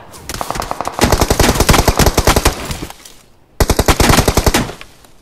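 Rapid automatic gunfire bursts in the mobile shooter BGMI, loud and close, with a long sustained stream of shots, a brief pause, then another quick burst.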